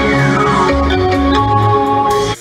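An audio logo, a short bright electronic jingle of a few tonal notes over a sustained synth chord, loud and alone, ending abruptly.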